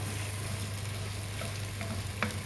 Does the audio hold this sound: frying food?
yes